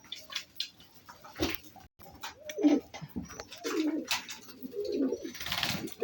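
Pigeons coo in a new coop, soft repeated throaty calls from several birds at close range, mixed with faint scuffling, wing rustles and drips.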